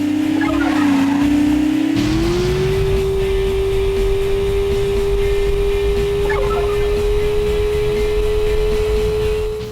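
Tires squealing as a car slides through corners in a Wii racing game, a steady high-pitched screech held for several seconds over a droning engine, loud and close.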